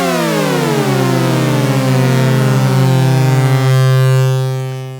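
Layered notes from a Moog Memorymoog analog synthesizer in mono glide mode glide downward and converge onto one low droning pitch, a loud buzzing slide that holds steady, then fades at the end.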